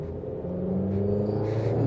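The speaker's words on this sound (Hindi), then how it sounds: "दूसरे गियर में गाड़ी थोड़ी लाउड हो जाती है" A Honda Amaze ZX manual's engine drones and swells in second gear, a steady low rumble building in loudness over under two seconds as the car accelerates, heard from inside the cabin.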